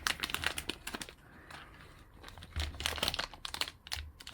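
Foil wrapper of a Swords and Suns trading card pack being torn and crinkled open at close range, a sustained papery crackle with bursts of louder ripping and rustling.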